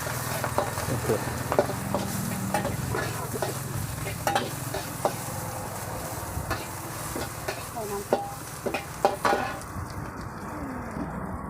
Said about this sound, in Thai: เดี๋ยวจะผัดคะน้าก่อนนะครับ